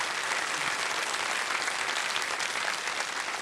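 Studio audience applause on the set of the Kaun Banega Crorepati quiz show, a steady dense clapping that fills the whole stretch at even loudness with no talk over it.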